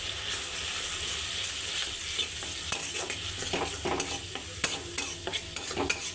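Cumin, turmeric and chili powder stirred in a hot pan for a duck egg curry: a steady close sizzle overlaid with irregular spoon scrapes and taps, growing busier toward the end, no voices.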